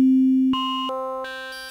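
A Propellerhead Thor synthesizer on iPad, programmed toward a bell sound with crossfade off, plays a held tone that jumps abruptly through four or five distinct waveform timbres in quick succession, clean and upfront.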